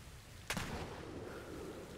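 A ship's cannon firing at a shark in the pirate game Atlas, a single faint boom followed by a rumbling tail under distant background noise.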